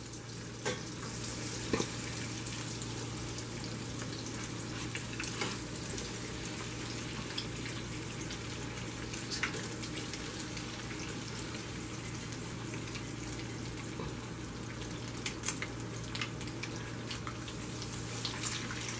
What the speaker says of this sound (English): we're just going to fry those up